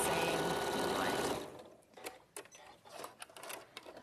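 An Elna 782 sewing machine runs a fast, steady mechanical whir while stitching a seam, then stops abruptly partway through, leaving faint clicks and quiet room sounds.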